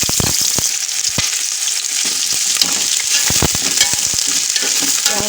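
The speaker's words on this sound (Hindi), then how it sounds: "और अब हम ऑयल मेरा गर्म हो गया है, ये देखें। और इसमें मैं प्याज डालूँगी।" Onions frying in hot oil for matar pulao give a loud, steady sizzle with sharp crackles and clicks scattered throughout, no voices.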